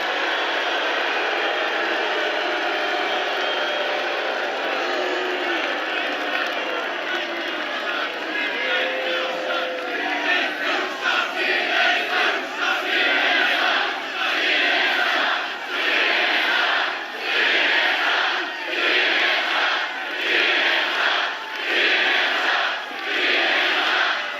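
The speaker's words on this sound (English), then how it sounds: "This is a hell of a big crowd, man." A huge outdoor crowd at a political rally roars and chants in swelling waves of cheering. The sound is loud and dense, and the rhythmic chanting grows stronger toward the end.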